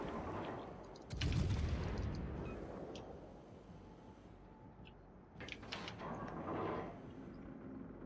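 In a naval warship video game, the 203 mm guns of the cruiser Myoko fire: two distant, heavy booms spaced a few seconds apart rumble over a low, constant background of game ambience.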